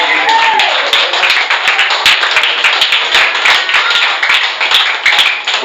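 Church congregation clapping in praise of Jesus, a dense, loud sustained patter of many hands with sharp taps, filling the space steadily throughout.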